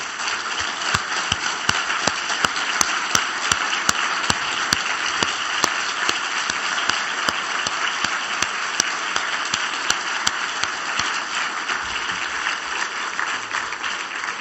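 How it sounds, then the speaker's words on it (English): Sustained audience applause at a closing ceremony of a global forum, a dense, steady wash of clapping with a few sharper individual claps standing out, continuing evenly without talk. "so we can give you a round of applause and acknowledgement?"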